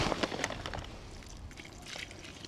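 Water poured into a chocolate-scented groundbait mix for feeder fishing, a steady close trickling stream with faint splashing throughout and no voices.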